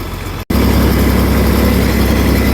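Tractor engine pulling a small square baler through a hayfield, a loud steady droning rumble close by, broken by a brief dropout just before the half-second mark and then continuing unchanged.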